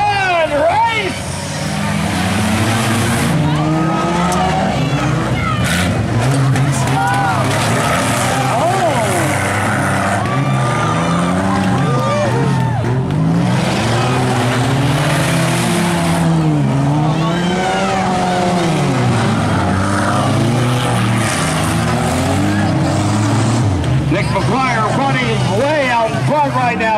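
Compact stock cars in a bump and run heat at the Michigan Bean Festival in Fairgrove, engines revving and rising and falling continuously as they race around the track, with crowd babble and an announcer speaking over the din.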